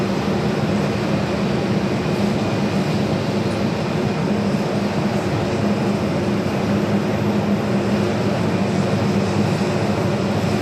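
An airplane roars on the runway at Phoenix airport, a loud continuous broadband rumble of jet engines that holds steady throughout, heard from nearby without talking.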